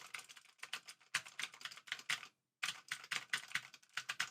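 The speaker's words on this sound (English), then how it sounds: "Sort of a typing test, just me bashing keys." Rapid clicky keystrokes on a blue-switch mechanical keyboard, loud and close, in quick bursts with a short pause midway before the typing resumes.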